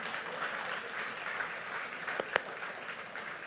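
A congregation at a church sermon claps together in a steady, moderately loud round of applause that carries on for a few seconds, with a couple of sharper claps standing out near the end.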